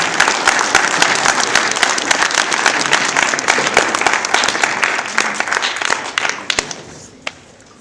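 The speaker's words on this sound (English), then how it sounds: "Could we give one more round of applause for Preston and his achievement?" An audience at a scout Court of Honor claps steadily for a boy's Arrow of Light achievement, the applause sustained and fairly loud, then thinning to a few last scattered claps.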